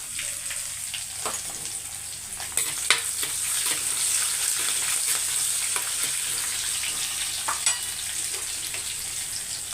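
Curry leaves, garlic cloves and a green chili fry in hot oil, giving a steady, loud sizzle with scattered crackles and pops throughout.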